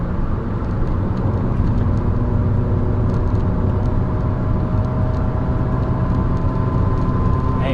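A Ford Puma engine running steadily under load while driving in fifth gear at about 4,500 RPM, with a loud continuous drone and road rumble filling the cabin and no talking.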